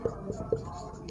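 A pen scratches out a handwritten sentence in Hindi on paper in a few quick, faint, close strokes, with a soft whisper-like rustle between them.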